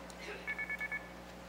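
Red box tone dialer held to a payphone handset, sending a quick run of five evenly spaced electronic coin beeps at moderate level over a low steady hum.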